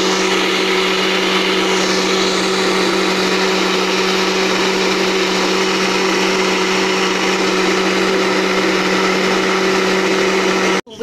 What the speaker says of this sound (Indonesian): Jadi bumbunya itu penuh 1 blender gini